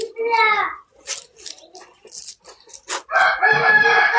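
Rooster crowing at a live poultry sale with geese offered, a loud crow near the start followed by clucks and voices of people, including a child, talking around it.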